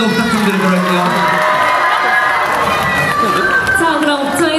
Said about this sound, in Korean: 우리 걸그룹님께도 다시 한번 더 뜨거운 박수, 힘찬 환호 한 번만 다시 한번 더 부탁드리도록 할게요